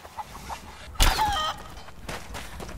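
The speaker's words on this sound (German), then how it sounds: "Oh, Hühner!" Chickens cluck briefly in Rise of the Tomb Raider, a short burst of fowl calls over quiet game ambience, loudest for about half a second with fainter clucks before and after.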